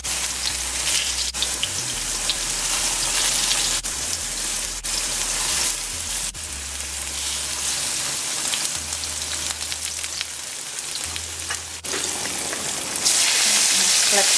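Pieces of shark and yellow plantain fry in hot oil in Guyanese-style cooking, giving a steady, dense sizzle with crackling spits throughout, loud and close, with no talking.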